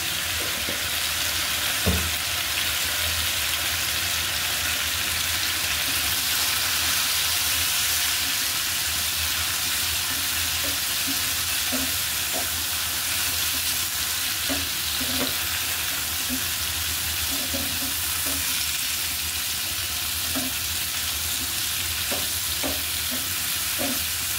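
Potato pieces fry in hot oil with turmeric and salt, giving a steady, dense sizzle. Occasional pops and light stirring clinks sound near and alone, with no talk.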